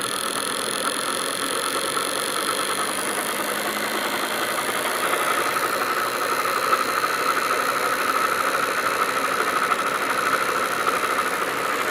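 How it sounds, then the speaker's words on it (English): A motor generator running at high RPM gives a steady, loud mechanical hum and whine that stays constant and intensifies slightly partway through, with no talking. "Crank it up. Let's get the RPM going."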